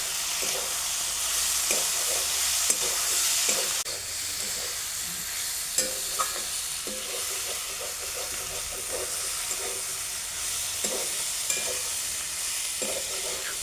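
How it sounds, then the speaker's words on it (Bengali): Ginger-green chilli paste, ground cumin, coriander and red chilli powder fry with onion stalks and potatoes in a pan, a steady loud hissing sizzle with occasional spoon scrapes and knocks. "এবার দিয়ে দেব আদা কাঁচা লঙ্কা বাটা, জিরে গুঁড়ো, ধনে গুঁড়ো, লাল লঙ্কা গুঁড়ো, সব কিছু দিয়ে সবজির সাথে ভালো করে কষিয়ে নেব।"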